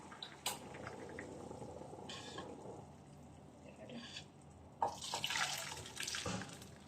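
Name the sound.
water being poured out from instant noodles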